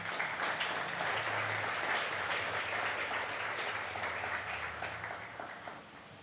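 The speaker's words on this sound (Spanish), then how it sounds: "Dale un aplauso al Señor." A church congregation claps along together for a sustained stretch, steady dense applause that fades slightly toward the end, with a low hum beneath.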